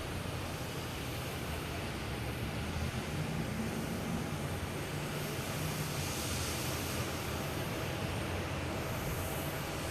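JetBlue airliner arriving from Aruba at Boston Logan Airport, a steady broad engine roar with wind-like rushing that holds constant throughout, heard from a distance outdoors.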